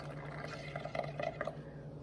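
Air is blown through straws into a colored bubble mixture, making soft, faint bubbling and gurgling with a few louder pops, steady and close.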